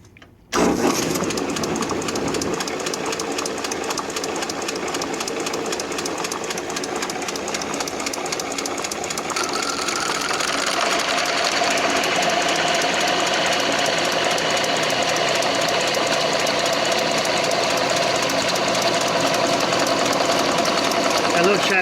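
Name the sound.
Logan 922 metal lathe knurling a workpiece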